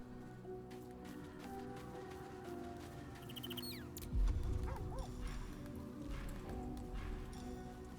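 Dog in Baldur's Gate 3, a few soft whimpers and yips midway over a quiet game ambience with a low thud.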